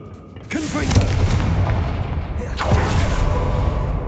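A Confringo blasting spell explodes in the Hogwarts Legacy video game. Two loud, close booms with rumbling tails follow each other about two seconds apart over a steady wash of game sound.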